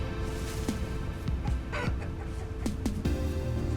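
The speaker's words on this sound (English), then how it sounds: "There's a chicken. We're going to try to kill this chicken." A chicken in the PC game Vintage Story clucks in short, scattered calls over a dense, steady background of game ambience and music.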